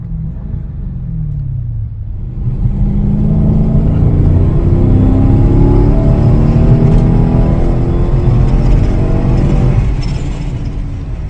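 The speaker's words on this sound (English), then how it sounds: "That was a nice fourth gear pull right there." A Dodge Challenger Scat Pack Shaker engine accelerating hard, revs climbing in steady steps through several gear changes, loud and close, with a brief lift between shifts.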